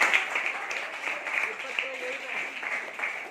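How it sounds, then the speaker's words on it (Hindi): Classroom applause during a school Hindi quiz, a steady patter of clapping at moderate level that continues throughout, with talk heard over it. "तालियां जोर से बजाइए।"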